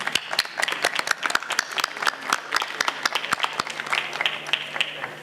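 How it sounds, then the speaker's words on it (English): An award ceremony audience applauds the Scottish youth workforce strategy, with moderately dense clapping and distinct sharp individual claps standing out, sustained evenly for several seconds. "Ladies and gentlemen, please give them a big round of applause."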